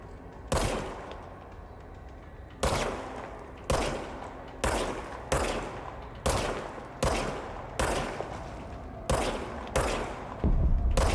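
Loud, sharp gunshots from the service weapon in the video game Control, about eight in an irregular sequence, each with a punchy attack and a short decaying tail over a low background bed.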